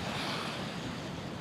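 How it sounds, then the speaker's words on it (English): Ocean waves surge against the shore at a fishing spot, a broad steady roar of surf mixed with wind buffeting the microphone, continuous and fairly loud throughout. "where you guys see the waves crashing up and stuff like that"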